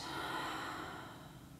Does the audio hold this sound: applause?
no